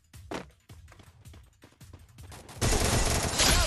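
Gunfire in the Free Fire video game: a quick run of sharp, punchy shots in an uneven rhythm, then a sustained burst of rapid fire and noise, all loud and close.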